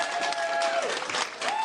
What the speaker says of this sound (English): you can see all the people clapping for this